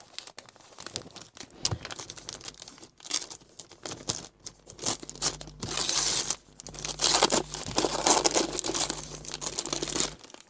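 Gift wrapping on a birthday package is crinkled and torn open in dense, close rustling and ripping that grows louder toward the end, with no voice.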